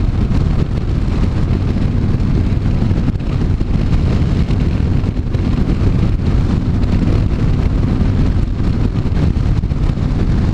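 Heavy wind buffets a rider's helmet at speed on a Honda CTX1300 motorcycle, a loud, steady roaring rush with low rumble that persists unbroken throughout.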